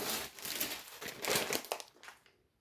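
Plastic shopping bag from a store being handled and rustled, a dense close crinkling for about two seconds that fades out at the end, with no talk.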